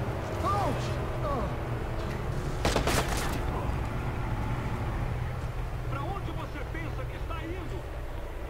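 Bursts of gunfire crackle in a sustained exchange in Watch Dogs over a steady engine-like drone, with a dense volley in the middle and scattered shots after.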